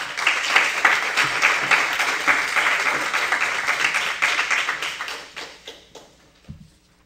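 Audience applause for a speaker at a lecture on prosecuting war criminals, sustained clapping from a seated crowd that gradually thins out and fades to a few last claps.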